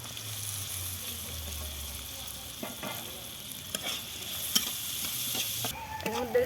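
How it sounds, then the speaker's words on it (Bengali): Chopped onions fry in hot oil with cardamom and bay leaf for potato kurma, a steady close sizzle broken by scraping stirs of a spatula against the pan, with no talk. "এবার দিয়ে দেবো আমি পেঁয়াজ কুচি। এটাকে আমি হালকা ব্রাউন করে ভেজে নেব।"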